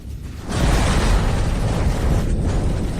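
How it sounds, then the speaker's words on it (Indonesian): A missile explosion strikes, opening with a short quiet moment before a heavy roaring blast swells and lingers loudly as a sustained rumble. "Ledakan bukan di sini."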